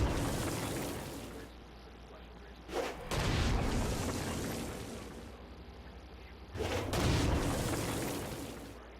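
Explosions and gunfire in the video game Saints Row: Gat out of Hell, with two heavy booming blasts a few seconds apart over a steady rumbling noise bed of game action.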